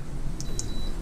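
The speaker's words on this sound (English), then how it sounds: "You hear it beep." Trolling motor electronics on a Carolina Skiff 198DLV give two short, high beeps just after power comes on, close and clear over faint background hum.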